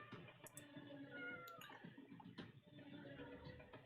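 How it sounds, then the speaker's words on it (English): A cat meows softly several times, small plaintive cries scattered over a quiet, muffled background with faint clicks. "I hear a kitty."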